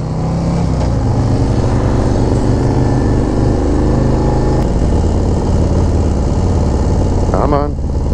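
A 2024 Harley-Davidson Street Glide with a 135 engine rides in sport mode, its loud, steady V-twin roar filling the whole stretch and rising briefly toward the end.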